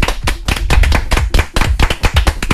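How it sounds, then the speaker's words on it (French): A studio audience claps for a guest arriving on a red carpet, a dense close burst of hand claps with uneven rhythm that keeps going throughout, with no talking. "qu'on vous demande d'applaudir tous"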